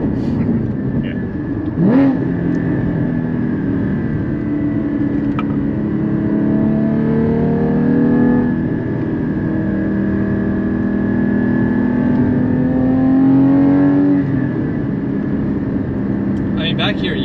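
A Porsche with a valved exhaust rumbles and revs steadily up close, its deep engine drone rising at times while people talk over it.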